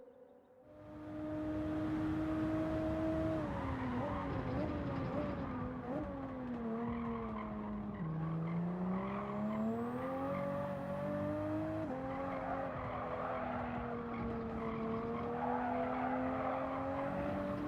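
A car laps a track in Gran Turismo 7, its engine note rising and falling steadily through gear changes and corners with faint tire squeal, sustained and alone after a quiet start.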